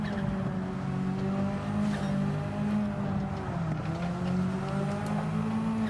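A tuned car in Gran Turismo 7 at about 600pp sliding around with its engine revving steadily and loudly throughout, the tone wavering as the car drifts, with faint tire noise underneath and no talking.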